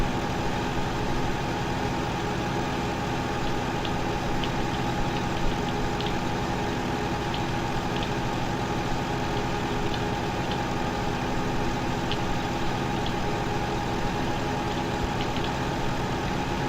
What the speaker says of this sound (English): The other problem with having the tractor run a little faster is it's a little harder to control with steering.